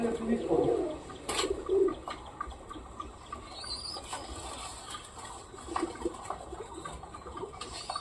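A pigeon coos softly on a house roof, low throaty calls repeating in the first seconds amid faint background noise, with a few brief higher chirps and clatters later.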